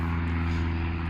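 A privately owned propeller plane takes off from Exeter Airport, its steady engine drone loud and continuous for the whole moment, heard from a nearby car park.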